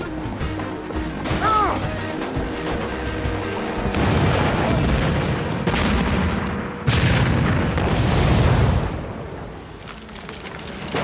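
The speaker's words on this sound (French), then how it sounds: "Grenade, on tire!" A grenade blast and gunfire in a French-language war film, heavy booming explosions and sharp cracks rolling through loud battle noise, with a shouted voice early on.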